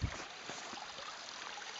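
Water rushes steadily down a pipe from a hillside pond toward a home-made ram pump, a faint, even hissing flow with a few soft knocks near the start.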